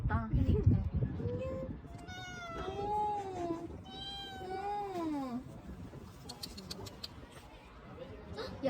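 A cat at a caravan campground in Paju, South Korea, lets out a series of drawn-out, wavering meows close by, with quiet voices and ambient noise in the background.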